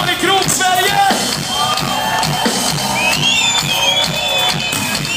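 A concert crowd at a 20th-anniversary celebration cheers and applauds loudly, with whoops, shouts and high whistles cutting through a continuous roar.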